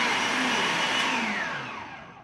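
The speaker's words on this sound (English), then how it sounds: "And then we'll put the rest of the tomatoes in, and we're going to puree them." A blender purees tomatoes for gazpacho with a loud, close whirring roar whose pitch slides as the blades churn, then winds down and fades at the end.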